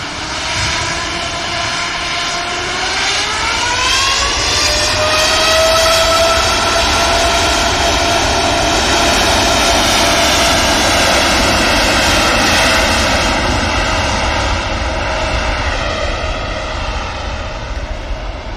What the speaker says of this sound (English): Oh, the D-rated takeoff that was.